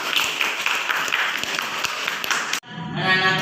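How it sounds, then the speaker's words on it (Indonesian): A classroom of children applauds: dense, rapid clapping that runs steadily and then cuts off abruptly, followed by a quieter stretch with a voice. "Tepuk tangan buat"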